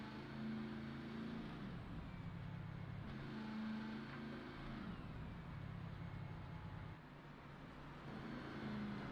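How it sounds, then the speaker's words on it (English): Desert race vehicles on an oval at Homestead, clutching and coasting behind a pace car with engines cut, a steady broad rumble of several motors rolling past at moderate loudness with a dip near the end. "Hear them clutching and coasting"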